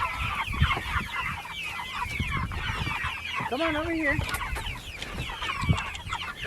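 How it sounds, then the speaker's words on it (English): Chickens cluck and call repeatedly close by on a farm, with a person talking and coaxing the birds over the top of the steady clucking. "Come on, chickens."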